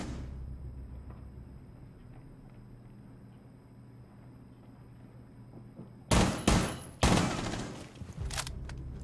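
Video game gunfire erupts in a few loud, close bursts of rapid shots near the end, after a long stretch of low background hum.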